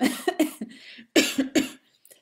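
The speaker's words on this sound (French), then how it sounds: "me fait tousser, parce que j'ai mis de l'huile sur mon cou" A woman coughs in several short harsh bursts, two clusters separated by a brief pause, close and loud, followed by a faint throat sound.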